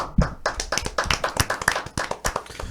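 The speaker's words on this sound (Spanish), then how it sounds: "Vamos a darle un fuerte aplauso" Hands clap for a few seconds at a Spanish-language legal radio talk on medical liability, the strikes sharp and irregular and fairly close, suggesting only a small group of people applauding.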